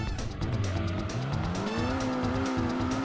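Viper GTS race car in the video game DT2, engine tone rising steadily in pitch while tires squeal and skid continuously, loud and close for about three seconds with no talk over it.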